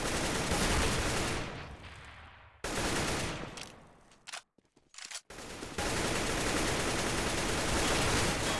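Rapid, dense bursts of gunfire from Counter-Strike: Global Offensive during an ESL Go4CS:GO Cup match, loud and sustained, with a brief, broken lull in the middle before the shooting resumes at full intensity.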